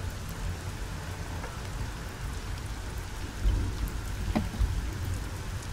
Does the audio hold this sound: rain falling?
yes